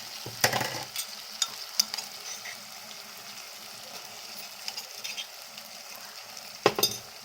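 Ginger garlic paste frying with tomatoes in a pan, a faint soft sizzle beneath intermittent scraping and clinking strokes of a stirring utensil, louder knocks near the start and end.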